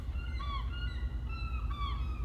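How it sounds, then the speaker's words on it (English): Several honking bird calls from the Pokémon GO game ring out in loose, overlapping bursts over a steady low rumble, with no talking. "Birds have gone wild."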